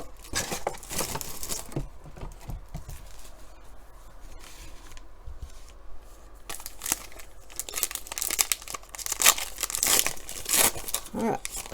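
Someone cuts open 2020-21 Panini Prizm Draft Picks basketball card blaster boxes, with close, continuous crinkling and crackling of plastic wrap and packaging, plus intermittent tearing, louder bursts toward the end.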